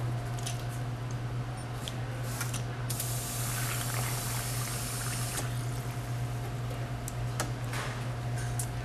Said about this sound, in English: Watch how fast and accurate anybody can pour a Captain and Coke with a Touch and Pour Cocktail Tower.